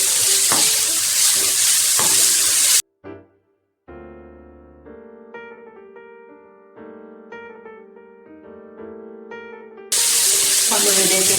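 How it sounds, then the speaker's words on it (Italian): Chopped onion for cannelloni sizzles steadily in a hot pan, a loud, broad frying hiss that fills the opening seconds, drops away while music plays, then returns just as strongly at the end. "Lasciamo rosolare alcuni minuti."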